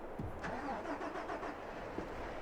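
A truck engine in the Farming Simulator 22 video game cranks and catches, settling into a steady mid-pitched running rumble, fairly loud and close with no talk.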